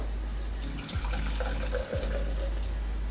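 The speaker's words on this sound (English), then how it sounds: "we about to open this thing and pour it right into my glass" Liquid from a freshly opened can of drink poured into a glass, a steady close fizzing, splashing stream running throughout with two brief dips in flow.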